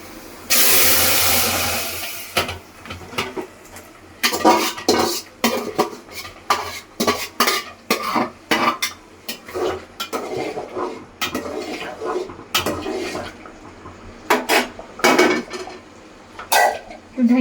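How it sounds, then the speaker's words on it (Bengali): Lentil dal is poured into a hot tempering pan for egg and potato dal, giving a loud burst of sizzle at first. It is followed by many sharp clatters of a utensil against pots and dishes, with no talk. "ডালটা ঢাইলা দিতেছি।"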